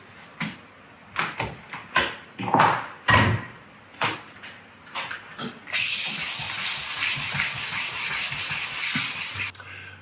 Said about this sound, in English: I've got a cork sanding block over the 40 grit sandpaper, and I'm going to give it a light sand